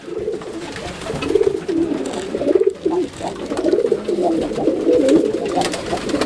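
Several racing homer pigeons coo in overlapping, low throaty rolls, close and fairly loud, continuing throughout with no speech.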